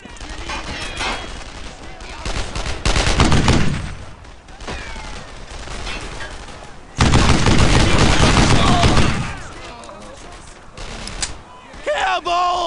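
Heavy gunfire from the World War II shooter Brothers in Arms: Earned in Blood, with dense bursts of rifle and machine-gun fire surging loud in waves, broken by quieter stretches where shouted squad commands cut through.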